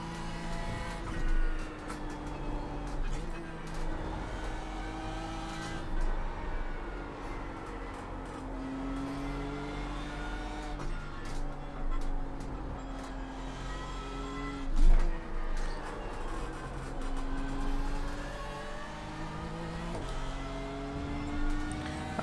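A race car engine from the iRacing simulator at Circuit of the Americas (COTA), droning steadily with rising and falling pitch sweeps as it accelerates and shifts through corners, loud and continuous with no talking.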